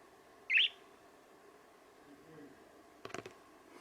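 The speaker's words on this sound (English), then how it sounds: "Say goodbye, birds." A single bird gives one short, sharp chirp nearby, then a faint creaky call later over quiet room noise.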